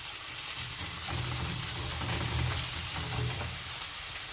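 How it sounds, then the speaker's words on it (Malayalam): Onions fry and get stirred in a pan for a prawn roast, a soft, steady sizzle with a slightly fuller stretch in the middle. "നമുക്ക് ഇച്ചിരി കൂടെ ഒന്ന് വഴുന്നത് വരെ ഇളക്കി കൊടുക്കാം"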